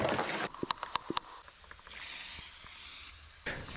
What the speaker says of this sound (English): blow her off with compressed air